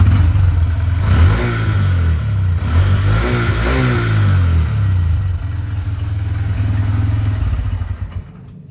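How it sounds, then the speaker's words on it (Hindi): A Honda Hornet 125 motorcycle's exhaust note as the throttle is blipped several times in rising and falling revs, then eases back to a steady idle. The engine is loud and close, with no talking. "अब इसका एग्जॉस्ट नोट सुनाता हूँ मैं आप लोगों को। एग्जॉस्ट नोट बहुत प्यारा है।"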